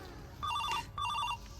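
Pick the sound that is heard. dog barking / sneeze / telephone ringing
telephone ringing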